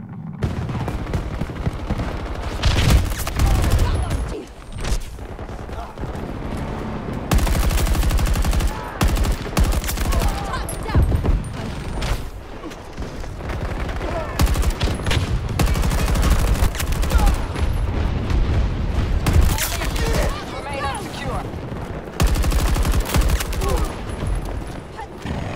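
Battlefield 2042 gunfire, with bursts of automatic fire and heavy booms that start and stop repeatedly, loud and close, as someone talks intermittently over the shooting.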